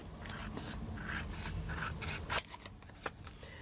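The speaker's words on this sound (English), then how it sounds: "And now I'm just going to cut along these edges." Scissors snip and rub along the edges of a fabric-covered paper tag for a journal embellishment, a quiet, close series of short cuts.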